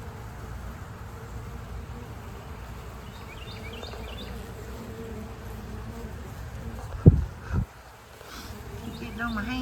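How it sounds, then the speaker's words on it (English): Bees buzz steadily around flowers and trees in a backyard garden, a soft continuous drone with a few brief rustles and thumps near the end. "I haven't seen bees like this in years."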